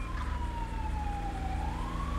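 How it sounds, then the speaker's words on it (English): Police car siren in the GTA 5 video game, a wailing tone that slowly falls and rises over a steady rumbling engine and road noise, heard at moderate distance without talking. "I do hear the siren."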